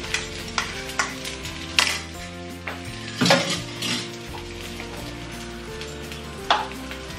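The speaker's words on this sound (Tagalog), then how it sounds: "Kasi, prito natin yung itlog." Oil sizzles steadily in a pan as an egg fries, while a utensil scrapes and stirs, with occasional clinks of metal against cookware.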